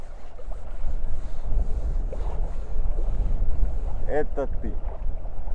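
Steady wind rumble buffets the microphone throughout while fishing by a pond, with water lapping nearby and a voice briefly speaking toward the end.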